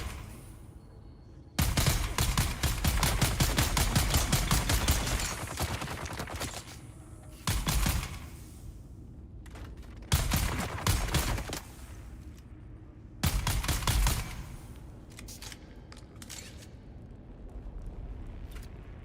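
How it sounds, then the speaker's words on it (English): A minigun in a video game fires in long, dense bursts of rapid loud shots, with several sustained volleys separated by short pauses and quieter gaps. "Oh, I found a minigun."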